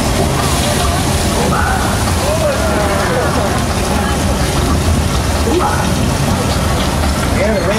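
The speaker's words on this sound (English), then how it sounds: "the rain comes from sprinklers" Steady broadband rush of artificial rain from sprinklers on a Universal Studios ride, water pouring continuously with a murmur of distant voices mixed in.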